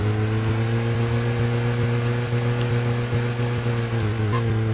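In Deadly Premonition Director's Cut on PS3, a steady, droning car engine hums continuously with a low, even tone and faint rhythmic ticks, loud and close, with no talking.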